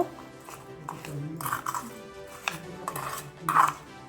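Guava pieces are tossed with salt, black salt, chili powder and kasundi in a bowl, with repeated close clinks and scrapes of a utensil against the dish and a soft wet mixing rhythm, while a voice talks in the background.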